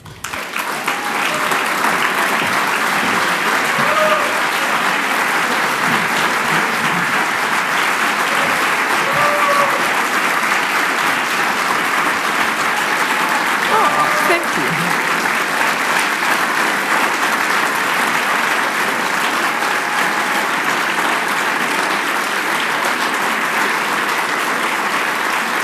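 Steady, loud applause from a conference audience welcoming Olivia Chow to the stage at an awards event, sustained evenly for about twenty-five seconds with scattered cheers.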